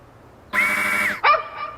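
A dog gives two short barks in quick succession, close and clear, the first longer and higher, the second sharper.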